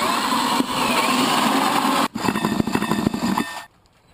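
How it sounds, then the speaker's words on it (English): A 4 1/4 inch Lennox hole saw cuts a 4-inch pipe hole, a loud, steady grinding whine for about two seconds, a brief stop, then rougher, choppier cutting before it cuts off into quiet. "put in an additional pipe hole, 4 inches, and use a 4 1/4 inch Lennox hole saw"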